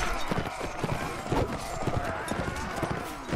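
Horse hooves clip-clop in Mount & Blade Warband with an Imperial Rome mod, a quick, rhythmic run of close hoofbeats with a voice faintly present underneath.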